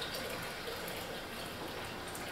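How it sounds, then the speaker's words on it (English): Tap water pours steadily into a gallon jug of herbal tea with ice cubes, a continuous close gushing fill with no talk over it. "and fill the rest of the gallon with water."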